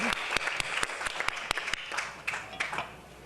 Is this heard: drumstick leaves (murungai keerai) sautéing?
no